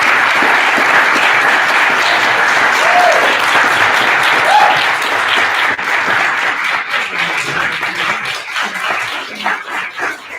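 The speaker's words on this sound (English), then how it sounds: "if we could have a round of applause for our panelists" An anniversary celebration audience gives loud applause for the panelists, a full sustained ovation that thins out in the final seconds with a few scattered claps and faint murmurs.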